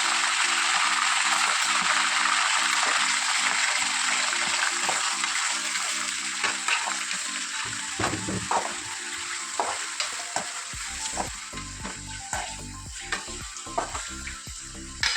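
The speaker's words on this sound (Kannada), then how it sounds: "ಚಿಕನ್ ಪೀಸಸಲ್ಲಿ ನೀರಿರೋದ್ರಿಂದ ಎಣ್ಣೆಗೆ ಹಾಕಿದ ತಕ್ಷಣ ಪೀಸಸ್ಸು ಅಷ್ಟು ಜೋರು ಸೌಂಡ್ ಬಂದಿದ್ದು" Loud, steady sizzling of wet chicken pieces deep frying in hot oil, with scattered pops and crackles and occasional stirring clatter toward the end.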